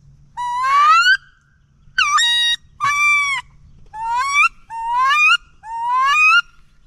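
Wood ducks call at dawn over a teal hunting spot in Louisiana, giving six loud, rising squealing whistles in quick, separate bursts close by, with low background rumble and no talking.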